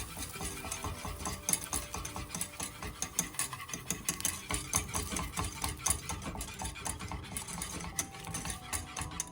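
Butter is stirred into melted caramelised sugar in a pan over gentle heat, giving a continuous scraping, swishing stir with a soft sizzle underneath and no voice.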